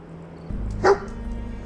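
A single short bark from the dog companion in Fallout 4 rings out over a steady low game ambience.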